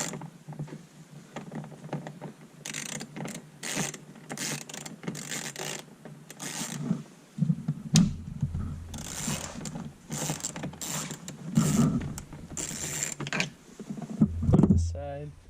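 A T25 Torx screw being backed out of an interior hatch panel on a VW MK5/MK6 hatchback, close ratcheting clicks and small mechanical turning sounds in short bursts, with someone talking intermittently over it.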